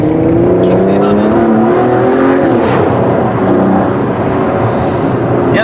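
Onboard an Aston Martin DB11 under hard acceleration, the engine note loud and close, rising steadily through the revs with a rich layered roar and road noise beneath.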